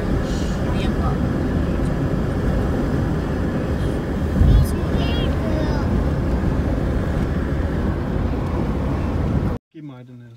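An airplane taking off or landing near an airport makes a loud, steady broadband roar with wind buffeting for about nine seconds, then cuts off abruptly, followed by a brief bit of voice.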